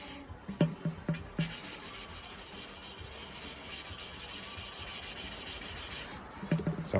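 Engine valve on a 1939 Farmall A being lapped by hand with abrasive grinding paste: steady, gritty rubbing and scraping throughout, with a few sharp knocks at the start and end.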